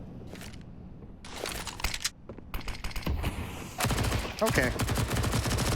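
MP9 submachine gun fire in the shooter game Counter-Strike: Global Offensive, with several rapid bursts of sharp automatic shots, some short and some sustained, alongside other gunfire and mechanical clicks, and a brief spoken word.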